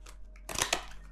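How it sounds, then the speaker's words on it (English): A quick riffle of tarot cards being shuffled, a brief papery flutter over a low steady hum. "That was a terrible shuffle. Let me do that again."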